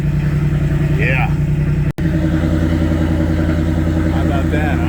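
Car exhaust at a car show, idling with a deep throbbing burble, gurgling and popping loudly and close by, cut by a brief dropout midway before the rumble continues.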